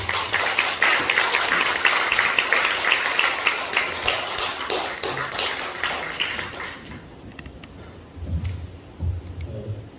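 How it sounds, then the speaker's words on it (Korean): An audience at a Korean church ceremony and forum applauds loudly for several seconds, dense clapping that thins into scattered claps and then fades out, leaving faint low rumbles and shuffling. "나오실 때 큰 박수를 쳐주시기 바랍니다"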